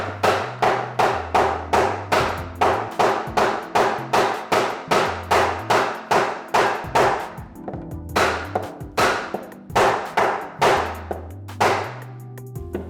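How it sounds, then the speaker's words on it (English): Rapid, evenly spaced hammer blows ring out nearby as glued wooden pieces of a step stool are driven together, dozens of sharp knocks in a steady rhythm with a few brief pauses. "Let's just dab some glue in here and hammer these bad boys in."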